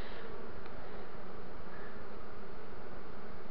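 Dense, steady drone of a honey bee swarm leaving the hive, many wings humming together in a continuous broadband buzz that stays close and loud throughout with no talking.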